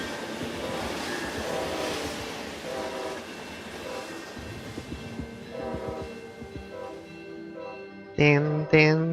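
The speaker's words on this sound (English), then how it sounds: "And you can hear the train." Train in the video game Cipher Zero passing a level crossing with the barrier down, a rumbling clatter building under soft background sound, ending with two loud horn blasts.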